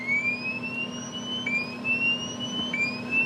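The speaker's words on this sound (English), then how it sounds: "Here's a siren sound." Siren tone played through an Alexa smart speaker, repeated rising electronic wails that each sweep upward and reset, fairly quiet and thin, with no talking.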